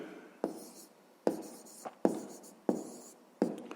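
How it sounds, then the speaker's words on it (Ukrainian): A pen writing in a notebook during a maths lesson, five distinct scratchy strokes spaced roughly evenly, close and quiet, with no talk. "Так, давайте так і запишемо."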